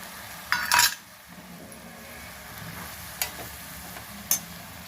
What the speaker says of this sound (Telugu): టమాటా ముక్కలు వేస్తున్నాను.